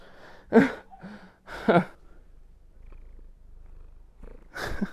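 A pet cat purrs softly and steadily up close, broken by a few louder breathy bursts, with no speech.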